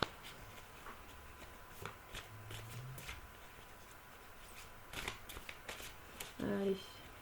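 Large yellow tarot cards in rainbow colours being shuffled by hand, with soft riffling and flicks scattered through a quiet room and a brief louder burst of handling near the end; no one speaks.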